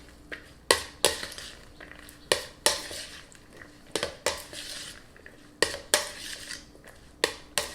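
A spoon stirs fresh pico de gallo salsa in a bowl, giving repeated sharp clinks against the side and a soft, wet churning between them in a loose rhythm.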